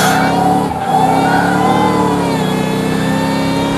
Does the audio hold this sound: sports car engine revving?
yes